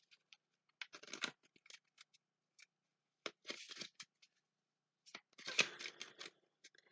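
Tarot cards shuffled by hand in a quiet room, giving several bursts of crisp papery riffling and slapping separated by short pauses, close and fairly soft.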